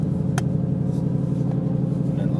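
A car engine holding a low, steady rumble under light throttle on a driving course, close and continuous with a faint click, without a clear rise in revs.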